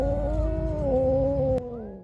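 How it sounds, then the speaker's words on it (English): An angry pregnant cat that has got into a house lets out one loud, close, drawn-out yowl lasting under two seconds, then goes quiet after a sharp click. "they had to deal with a very angry pregnant cat that had got into one man's house"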